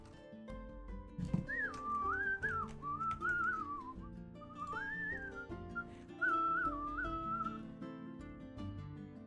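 A person whistles a wandering melody in several phrases over quiet background music, with occasional clicks and taps.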